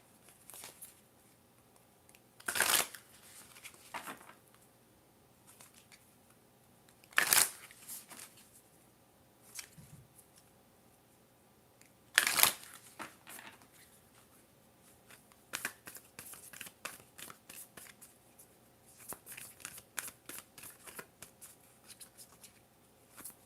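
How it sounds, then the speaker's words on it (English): A Moonology oracle deck being shuffled in a quiet tarot reading, with soft riffling bursts at irregular intervals and a run of quick flicks toward the end, close and intimate with no talking. "3 Moonology cards that will be able to see, what type of energy is going to be over you in the next 7 days"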